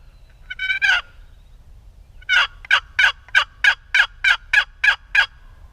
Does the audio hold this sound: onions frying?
no